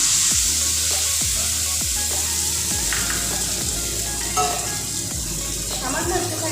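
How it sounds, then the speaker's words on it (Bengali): Chili and turmeric paste sizzling loudly in a pan of fried onions, a steady close hiss with several sharp scraping stirs of a spatula against the pan and no talking. "এবার আমি এর মধ্যে লঙ্কা আর হলুদের যে পেস্টটা ভিজিয়ে রেখেছিলাম পুরোটা,"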